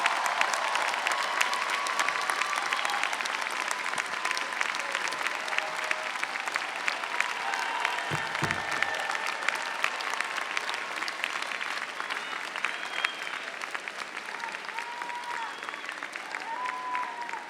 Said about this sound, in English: Would the graduates please rise and turn to lead us in the applause of your families and friends.